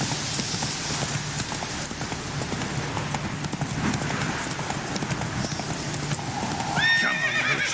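Roach, a horse in the video game The Witcher 3, gallops with steady rapid hoofbeats beneath rain-like ambience, then lets out a sharp whinny near the end.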